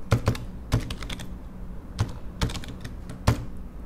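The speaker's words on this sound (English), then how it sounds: "So I'll type in the HWBOT URL." A URL is typed on a computer keyboard, with close, crisp keystrokes arriving in quick irregular bursts and short pauses between them.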